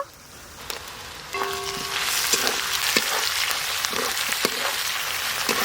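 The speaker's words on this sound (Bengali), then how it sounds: "পেঁয়াজ, আদা, রসুন, টমেটো বেশ ভালো করে ভাজা ভাজা হয়ে গেছে" Onion, ginger, garlic and tomato fry in a pan for a home-cooked Bengali lunch, giving a steady close sizzle that grows louder partway through, with occasional clinks of stirring.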